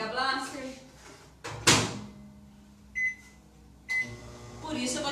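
A microwave oven runs at full power with a steady low hum, broken by a sharp door-like clunk and a couple of short beeps, quiet and close.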